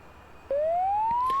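A cockpit warning alarm in the DCS OH-58D Kiowa helicopter simulator sounds as a single clear electronic tone that starts abruptly and glides slowly upward in pitch, steady and prominent over a low background hum.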